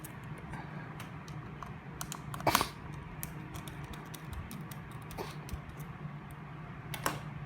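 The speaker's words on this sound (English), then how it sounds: "Change the screw bit to the crosshead screw. Remove the screw." A crosshead screwdriver backs out the screw holding the hard disk in an Asus UX32VD laptop: sparse, light close-up ticks and clicks with one louder rattling cluster partway through.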